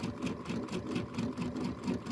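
A sewing machine stitches pieces of a Kimberbell Hello Sunshine quilt block, a close, steady rhythmic whir with quick regular needle pulses running continuously, no voices.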